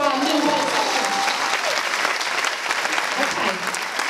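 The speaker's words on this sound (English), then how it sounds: "big round of applause for our new members" Choir audience clapping for new members at a 10-year Rock Choir celebration show, a loud, dense round of applause filling the hall throughout, with voices mingled in the crowd noise.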